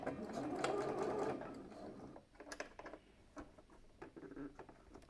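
A sewing machine stitching thick shirt fabric runs in a loud whirring burst, then stops and gives several short, uneven mechanical clicks and knocks, with no one talking.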